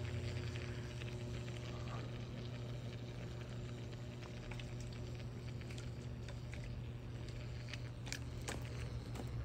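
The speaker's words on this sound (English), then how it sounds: "look at the way it's boiling right there where the wires are" Steady bubbling, sizzling crackle of electrical wiring on a TV antenna converter, with a constant low electrical hum underneath, close and continuous, with occasional sharper pops.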